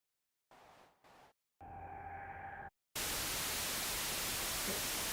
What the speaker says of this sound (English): So white noise.